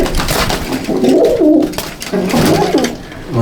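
Old line Madrasi pigeons coo in a loft, several birds overlapping in repeated rolling, throaty coos that fill the clip at close range.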